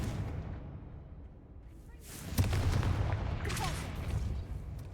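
A Confringo spell cast in Hogwarts Legacy bursts out as a loud explosive boom with a whooshing blast and rumbling aftermath, following a quieter low rumble.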